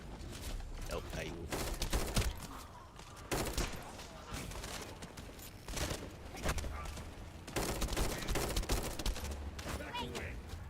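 A shotgun fires in a video game, with heavy booming blasts among dense, continuous gunfire and game sound effects, and someone talking over the action.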